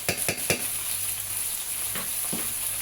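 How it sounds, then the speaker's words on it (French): A utensil scrapes and stirs through thick tomato paste in a pan, three quick strokes then two more, over a steady low sizzle. "Et je mélange, bien mélanger."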